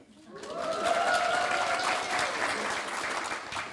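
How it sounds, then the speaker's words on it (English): An audience at a talk breaks into cheering and applause that swells quickly, holds at a steady roar of clapping and whoops, then eases off slightly toward the end. "Cheer for me."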